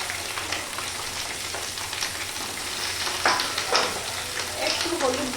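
Okra sizzles steadily in a generous amount of hot oil, with a continuous frying hiss and occasional stirring scrapes that swell briefly near the end.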